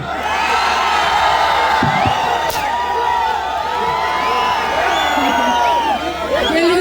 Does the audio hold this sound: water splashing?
no